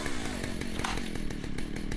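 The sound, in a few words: chainsaw being started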